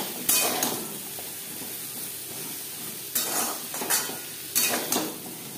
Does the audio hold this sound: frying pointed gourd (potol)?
yes